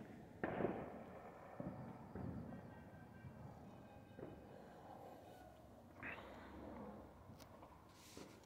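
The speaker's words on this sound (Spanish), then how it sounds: "ahí se oyen los cohetes, la gente está tronando los cohetes" Distant New Year's midnight fireworks and firecrackers in American Canyon, a few sharp bangs and pops scattered over a low rumbling background, faint and far off.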